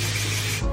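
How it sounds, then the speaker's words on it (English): Short aerosol hiss of dry texture spray misted under a lifted front section of hair, one steady continuous burst close to the mic that cuts off near the end. "The next thing I use is this dry texture spray, and I pick up each section of the front, spray underneath"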